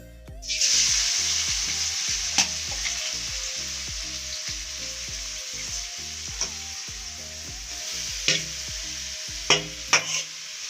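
Banana flowers coated in spice paste sizzle steadily in hot oil in a kadai, a continuous close frying hiss with rhythmic stirring scrapes and occasional sharper pops.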